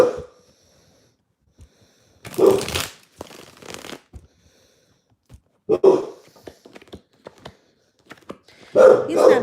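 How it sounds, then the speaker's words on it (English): A dog barks at a neighbor in short, sharp bursts spaced a few seconds apart, moderately close, with quieter shuffling and handling noises between the barks. "It's barking at the neighbor."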